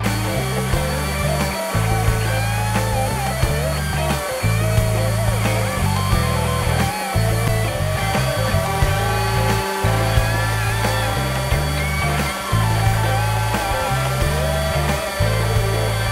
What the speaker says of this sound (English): I'm going to go ahead and start sanding everything just to get the glue off.